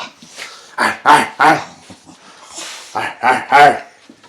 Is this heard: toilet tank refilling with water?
no